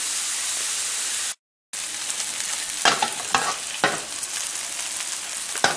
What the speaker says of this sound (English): wait for them to give off enough grease that I can turn them without breaking